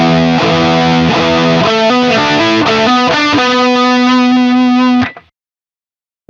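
Distorted electric guitar plays a lick, a loud, close run of picked notes and shifting chords that ends on a sustained note, then cuts to silence.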